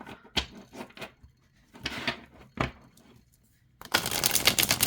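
A deck of tarot cards is riffled and shuffled in several quick bursts, close up, ending in a longer continuous flutter of snapping cards.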